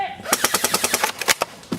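An airsoft SAW support gun rattles off a rapid burst of about a dozen sharp snaps at an outdoor field, loud and close, with a couple of trailing shots at the end and no talk over it.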